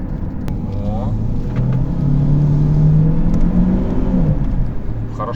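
A 2021 Chery Tiggo 8 Pro with a turbo engine accelerating hard, its loud engine note climbing steadily in pitch, heard close from inside the cabin.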